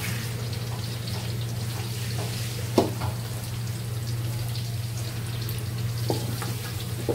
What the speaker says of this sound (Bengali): পেঁয়াজের সঙ্গে একটু ভেজে নেব ঘি দিয়ে চালটা